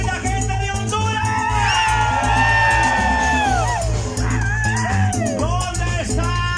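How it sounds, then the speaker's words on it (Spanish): Concert crowd in Gracias, Lempira, Honduras shouting and whooping loudly under a steady bass-heavy musical backing, with sustained yells and cheers rising and falling across the whole stretch. "Que yo quiero pedir un grito a toda la linda gente de Honduras."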